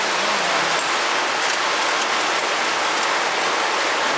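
Rain falls steadily in a dense, hissing wash of drops, loud and close and unbroken throughout, with no talk over it.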